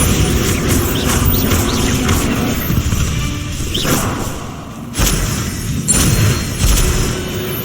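A Bombarda explosion spell in Hogwarts Legacy goes off among loud, dense game noise, with booming blasts, whooshes and shattering crashes rising and falling in sharp bursts throughout.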